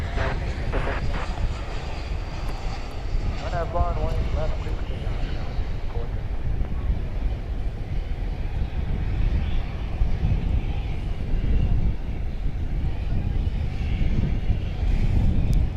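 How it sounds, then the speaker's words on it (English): An Airbus A321 airliner roars steadily at DFW Airport at night, a continuous jet engine rumble mixed with wind noise on the microphone, fairly distant and sustained throughout. "An Airbus A321 arriving and taking off there into the evening sky."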